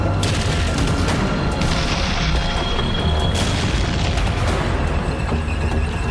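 Dense, continuous WWII tank battle noise at Arracourt with heavy booms and rapid gunfire bursts, loud and sustained throughout.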